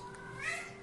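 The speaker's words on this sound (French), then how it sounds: "c'est mon chat qui fait des acrobaties." A house cat meowing once, a short drawn-out cry at moderate distance rising and falling over a faint steady indoor hum.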